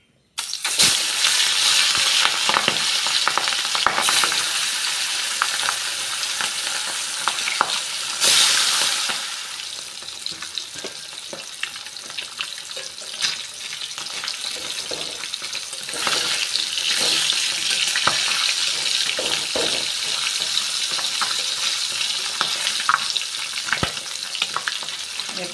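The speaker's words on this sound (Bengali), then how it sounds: "এবার আমি মাছগুলো ভেজে নেব" Rui fish pieces fry in hot oil in a wok, giving a loud, continuous spitting sizzle with crackling pops and occasional clinks of a utensil, steady throughout and without talk.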